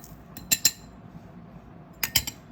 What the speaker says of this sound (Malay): Jadi masukkan gula 1 sudu.